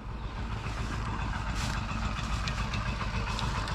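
A John Deere CH570 sugarcane harvester engine runs steadily nearby, a loud, continuous mid-pitched drone with no voices over it.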